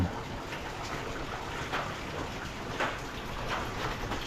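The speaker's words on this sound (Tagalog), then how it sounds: "Ayaw naman huminto ng ulan." Steady rain falling, a continuous soft wash of drops on surfaces with no voices.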